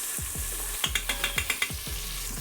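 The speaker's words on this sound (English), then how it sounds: "I'm just gonna saute it really quick" Sofrito sizzles in an Instant Pot on sauté mode while a utensil scrapes and taps the bottom of the inner pot in a quick run of rhythmic strokes, close up with no voices.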